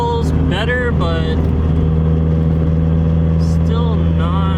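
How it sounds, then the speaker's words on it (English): A modified Honda Civic on the road holds a loud, constant engine drone from inside the car while driving, with a voice breaking in briefly over it. "Alright, I'm taking the car for a drive."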